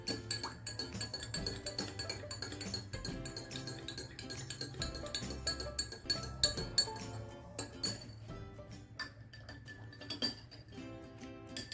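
Repeated clinking of a spoon against glass while stirring vinegar into it, quick irregular taps continuing for several seconds, close and fairly quiet with a steady low hum underneath.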